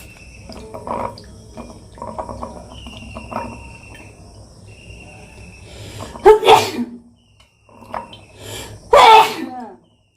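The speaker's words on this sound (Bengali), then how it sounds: "এত হাঁচি আসে কি বলবো কোনো কিছু ভাজা করতে গেলেই ফোড়ন দিতে গেলেই খুব হাঁচি আসে আমার" Two sharp, close sneezes burst out late, one after another, in a small kitchen while someone fries food and tempers spices, following quieter kitchen noise with a faint insect-like chirp underneath.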